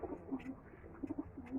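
Pigeons coo softly and repeatedly in a loft of red breeding pigeons, low rolling calls close by over a faint background hiss.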